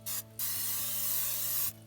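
Pam cooking spray hisses into a Dutch oven outdoors in two bursts, a short one and then a long, steady spray of nearly a second and a half, close and fairly loud with no talking.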